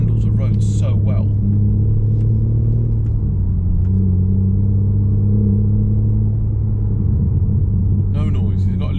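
A BMW M4 Competition engine burbles low and steady while driving, a continuous rumble with shifting tone and no bursts of revving.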